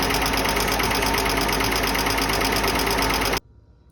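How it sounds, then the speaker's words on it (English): A rough, rattling engine idles loudly and steadily with a knocking texture, then cuts off abruptly near the end, leaving near silence. "it just sounds like the engine's done"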